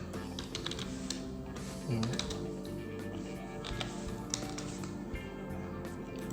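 Rapid, steady clicking of computer keyboard keys as an IF ERROR spreadsheet formula is entered, close and continuous over a low background hum.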